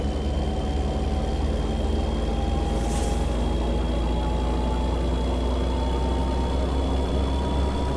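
A Kenworth T800 truck engine idles in American Truck Simulator, a steady low rumble with a constant hum, fairly quiet and unchanging for the whole stretch, alone with no talking.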